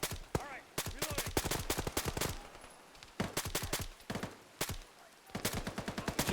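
Bursts of MG42 machine gun fire in a modded tactical shooter game, loud close rapid rattling volleys broken by short pauses, with a few gaps between strings of shots.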